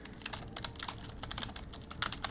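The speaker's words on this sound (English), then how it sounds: "In your browser, you're gonna go ahead and type in" Rapid typing on a computer keyboard, a steady stream of close, quiet key clicks with no talking.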